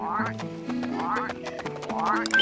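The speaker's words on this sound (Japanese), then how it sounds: "あのカエルめっちゃこっち見てる。" A frog creature in the video game Pikmin 3 croaks in short repeated calls over steady, layered game music, with rising tonal sweeps recurring about every second.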